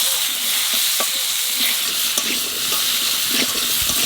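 Potato pieces fry in oil left from frying fish, giving a steady close sizzle with occasional clicks and scrapes of stirring, no talking.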